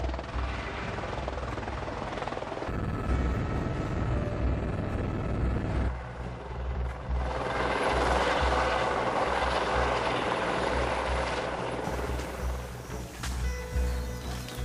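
A helicopter flies in to land at a bush-cleared helipad at a safari lodge in Kenya, its rotor thudding steadily and loud throughout, the engine whine shifting in tone as it descends.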